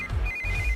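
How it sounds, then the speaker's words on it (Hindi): A telephone rings with a steady electronic ringtone tone, clear and sustained over a low background hum, with no talking. "इस वक्त दीदी का फोन।"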